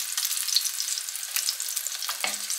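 Food fries in fat in a pan, a steady close crackling sizzle with scattered pops and a brief scrape of a utensil near the end, no voices.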